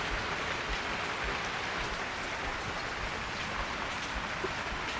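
Steady rain falls outdoors onto walnut trees in the mountains, a dense, even hiss of drops on leaves and surfaces that continues unbroken from start to finish with no voices.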